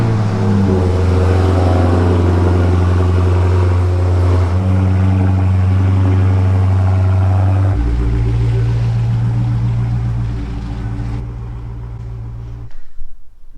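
A Dodge Charger engine runs in a garage, loud and close, holding a deep, steady drone that shifts pitch partway through and then settles back down. No voices are heard.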